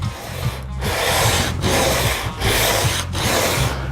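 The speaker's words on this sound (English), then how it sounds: "we have our sanding block in place, and what we're going to do is we're going to begin to sand it" Rough, rasping sanding strokes on a wooden guitar neck with a radius sanding block, pushed back and forth in a steady rhythm with brief pauses between passes, close and fairly loud.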